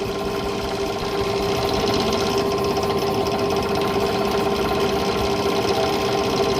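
A drill bores stitching holes through a glued leather knife sheath, its motor droning and chattering steadily and loudly at close range without pause.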